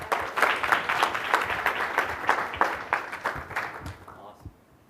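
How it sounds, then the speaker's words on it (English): Audience applause at a 2010 Microsoft Research eScience Workshop, a steady dense patter of many hands clapping for about four seconds before it quickly dies away, with no talking. "Let's give Mark a big round of applause."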